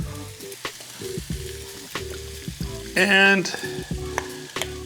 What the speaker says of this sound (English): Oh yeah, it's sizzling.